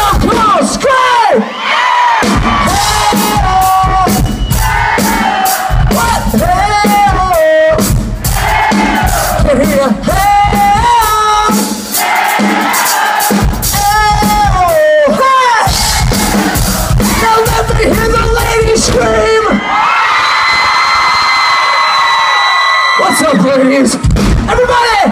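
A theater crowd at a drum solo during a Tulsa rock concert screams, whoops and cheers continuously, loud and close, with bursts of drum hits and shouted crowd-rousing calls over the top.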